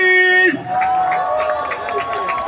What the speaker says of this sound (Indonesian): Tepuk tangan sekali lagi untuk Devile Chris.